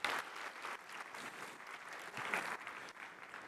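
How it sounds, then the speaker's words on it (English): Conference audience at a Facebook web-scale engineering talk breaks into steady applause, a dense wash of many hands clapping throughout, fairly distant and even in level with a slight swell near the end. "I'd take a moment to give applause to them"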